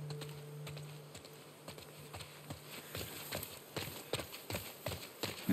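Horse hooves clip-clop in The Last of Us Part 2, a run of quiet, uneven hoof strikes that grows denser and slightly louder toward the end over a soft ambient background.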